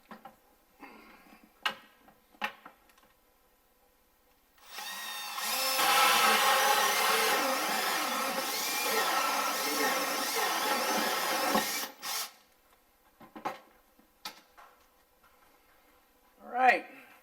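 A power drill runs in one continuous whirring burst of about seven seconds while drilling a hole through a kitchen cabinet, with quiet clicks and handling noises before and after.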